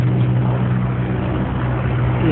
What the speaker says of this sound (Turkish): Bu da helikopter.